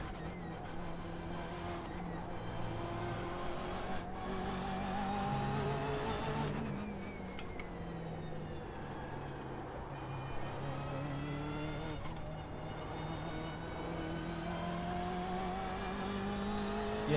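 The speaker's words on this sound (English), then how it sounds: "Listen to the throttle pick up." A race car engine in iRacing at the Nürburgring drones and revs continuously, pitch rising and falling as it accelerates, with brief gear-shift dips along the way.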